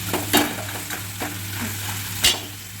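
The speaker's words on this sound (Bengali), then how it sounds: "এই তেলের মধ্যে আমি কালো জিরা ফোড়ন দিয়ে দেবো" Black cumin seeds (kalo jira) crackle and sizzle in hot oil, a close, bright frying hiss broken by a few sharp pops and stirring scrapes.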